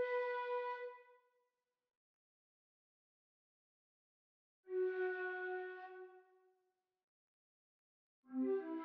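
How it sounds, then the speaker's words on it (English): An Indian-style flute plays three sustained breathy notes, each held about a second or two and separated by silent pauses. "Then next I added this flute, like an Indian flute that sounds like this."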